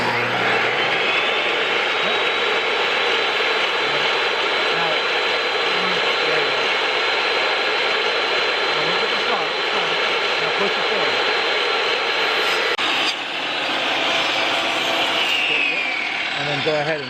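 A table saw runs steadily for about 17 seconds, a loud continuous motor whine with a brief dip near the end as it likely cuts or changes load, with some talk underneath.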